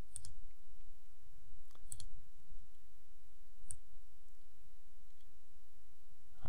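Three or four sparse, faint computer mouse clicks tick out over a quiet background hum while building a homepage in a website editor.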